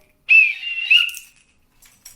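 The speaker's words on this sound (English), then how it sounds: "And the whistle." A single whistle blows, a shrill tone with a short warble near the start and a second lift before fading, then silence.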